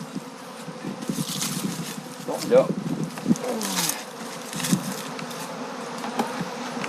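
Honeybees swarming around an opened beehive, a dense, close buzzing hum with individual bees zipping past, while people speak briefly in French.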